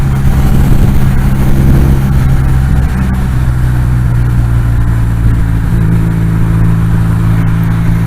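Motorcycle cruising through Forest Park in Saint Louis, Missouri, a steady loud low engine drone heard from the rider's position, with a slight shift in pitch partway through as the engine eases off.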